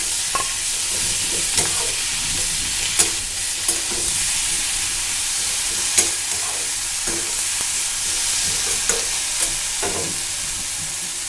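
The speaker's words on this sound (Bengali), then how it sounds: "পেঁয়াজ কাঁচামরিচ ভাজা হয়ে গিয়েছে, এখন এই তেলের মধ্যে একটু ছেড়ে বেটে নেব" Onion and green chillies frying in hot oil make a loud, continuous sizzle, broken by regular scraping strokes of stirring and a few sharp utensil knocks against the pan.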